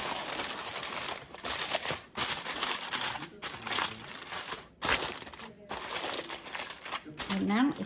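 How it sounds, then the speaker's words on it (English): Aluminum foil crinkles and crumples loudly up close as it is wrapped over a baking dish, the rustling running almost continuously with short pauses. "We're going to wrap this with aluminum foil."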